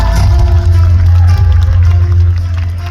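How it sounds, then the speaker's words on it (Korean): A large crowd applauds at the opening ceremony of the 2023 Saemaul Festival in an outdoor theme park, loud and continuous, with a heavy low rumble from the venue's sound system and a busy babble of the gathered audience beneath. "여러분 다시 한번큰 박수 부탁드리겠습니다."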